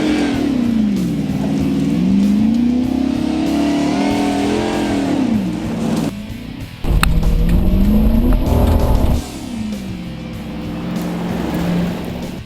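Race car engine straining and bogging through soft dirt on a track during a Chevy versus Ford cop car battle, a loud continuous drone rising and falling in pitch with a sudden harsh roaring burst midway.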